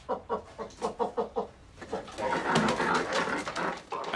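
Cormorants back from river fishing with a cormorant fishing master calling and squawking as they are fed, a run of rhythmic loud croaks giving way to a dense, overlapping clamor of birds close by.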